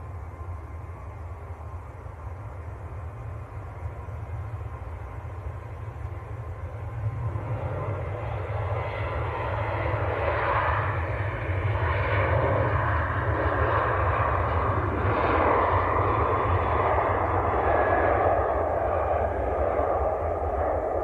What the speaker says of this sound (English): Ryanair on the roll, going full length. This one is out to Murcia, down in Spain.